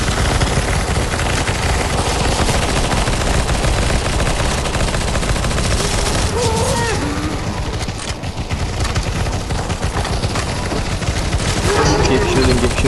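Sustained gunfire in the CS:GO zombie escape mod, loud continuous automatic shooting from many weapons with a brief lull in the middle, mixed with other game effects.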